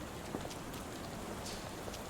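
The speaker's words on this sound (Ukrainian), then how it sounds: "на дворі дощить, тож варто вдягнутись по погоді" Steady rain falling outdoors in the game Sherlock Holmes: The Awakened, a dense even patter across a surface with no voices, holding constant throughout.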